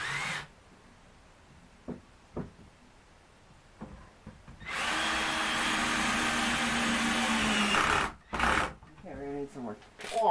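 A power drill runs steadily for about three and a half seconds while a small tractor trailer is being built, loud and close, with a few short taps and handling noises before and brief bursts after.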